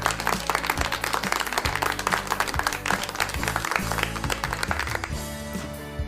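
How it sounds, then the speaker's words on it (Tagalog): A crowd claps in steady, dense applause that keeps up throughout and thins slightly toward the end, with no talk over it. "bigyan ang sarili ng palakpak"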